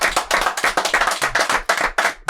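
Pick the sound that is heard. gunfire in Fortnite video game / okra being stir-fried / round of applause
round of applause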